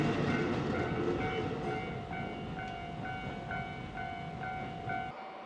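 JR freight train on the Nagoya port freight line, heard from a road crossing: steady rumbling wagons rolling past alongside the repeating tones of a crossing bell, loud and continuous before cutting off at the end.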